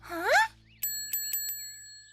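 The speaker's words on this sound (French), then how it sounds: "Mais c'est le son qu'avait la cloche au départ." A cartoon bell rings four quick, bright times in a row after a short swooping tone at the start, each strike clear and ringing out with a sustained metallic shimmer.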